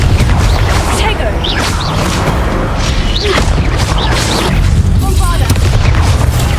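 Booming spell explosions from the Bombarda curse crash one after another in the Hogwarts Legacy video game, dense and loud over layered effects, with voices calling out beneath.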